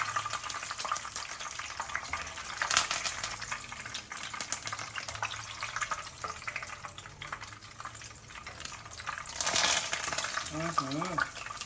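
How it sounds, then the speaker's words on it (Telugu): Curry leaves crackling and sizzling in hot oil on a switched-off stove while making catering-style brinjal pakodi, with a steady frying hiss and scattered pops, a voice talking over it. "ఇదే లాస్ట్ కాబట్టి కరివేపాకు కదా మరి ఆ మాత్రం అరవదా"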